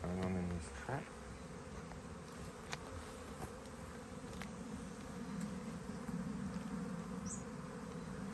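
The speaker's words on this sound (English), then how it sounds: "A few little bees in there," Bees buzz softly around a beehive trap, a faint, continuous hum with a few brief louder passes, and a short voice or knock is heard near the start.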